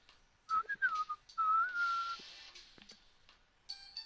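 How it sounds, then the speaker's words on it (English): A person whistles a tune alone in two clear, wavering phrases, one after the other, followed by a few scattered clicks and a faint higher whistle toward the end. "I can't even whistle."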